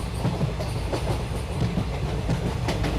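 A goods train rolls steadily along the rails through a forest during a storm, wheels clacking in a regular rhythm over a constant low rumble, fairly close and continuous.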